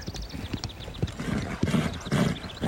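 Hooves clip-clop steadily on hard ground while a horse lets out a whinnying neigh, close and distinct, with the rhythmic hoofbeats running throughout.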